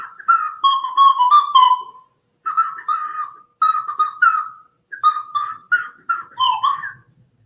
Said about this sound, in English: slide whistle solo